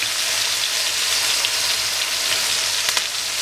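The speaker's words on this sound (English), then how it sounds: "And then our steak goes in, the head goes in, and then the garlic." Steak and garlic sizzle hard in hot ghee in a cast iron skillet, a loud, steady, close crackling hiss with a few sharper pops and no voices.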